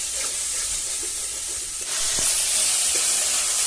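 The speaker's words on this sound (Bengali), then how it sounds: "মশলাটা আমার কষানো হয়ে গেছে" Spice masala with Kashmiri chili powder frying in a pan, giving a steady broadband sizzle that swells louder partway through, with a few soft stirring scrapes and no voices.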